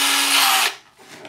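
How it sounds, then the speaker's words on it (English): A power drill with a 1/8 inch bit bores through material for model rotor mast assembly, a loud close steady whine that cuts off abruptly partway through, leaving quiet room tone. "And I'm going to drill"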